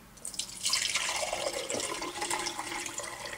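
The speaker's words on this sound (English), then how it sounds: "So the first thing I need to do is strain the liquid, which I do in here." Water kefir liquid is strained into a container, giving a steady splashy trickle of pouring liquid with dripping, close and moderately loud throughout.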